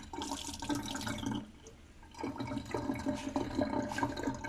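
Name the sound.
lab suction system aspirating supernatant from urine tube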